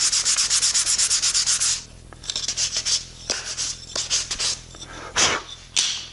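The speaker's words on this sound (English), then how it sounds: "The drudgery of sanding is finally over" Quick rhythmic rasping strokes of sandpaper on wooden blocks, fast and even at first, then slower, irregular scrubbing passes.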